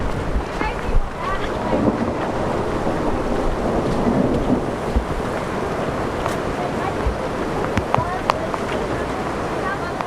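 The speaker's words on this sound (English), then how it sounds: "water begins to fill the street before becoming a river within minutes" Floodwater rushes through a city street that has turned into a river within minutes, a loud continuous roar with wind noise and occasional sharper splashes, no clear voices.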